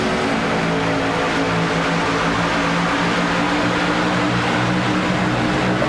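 Race car engines in a sim racing game of an Xfinity Series race at Kentucky Speedway, a loud, continuous, dense roar of several cars accelerating together, with no voices over it.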